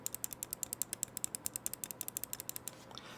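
Quick successive right button clicks of a Pulsar X2F mouse tap out a fast, steady rhythm, sharp and close, ending in a brief pause.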